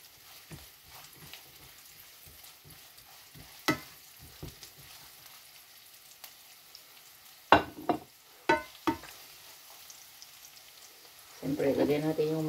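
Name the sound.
mushrooms sizzling in a pan with onion and garlic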